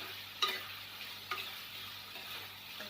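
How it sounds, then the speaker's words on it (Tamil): A spoon scrapes and stirs Malabar cucumber kootu with turmeric, chili and coriander powder in a pan, in a few distinct strokes over a soft, steady sizzle, with no voices. "இப்போ நல்லா கலந்து விட்டுட்டு"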